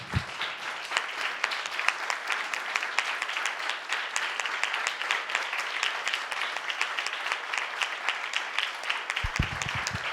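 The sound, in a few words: audience applause welcoming the pastor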